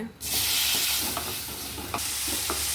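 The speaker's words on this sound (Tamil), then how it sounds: "தக்காளி வணக்கலாங்க" Tomatoes sautéing in a pan with coriander, chili and turmeric powders for an okra tamarind curry: a steady loud sizzle, with scraping stir strokes near the start, at the middle and toward the end.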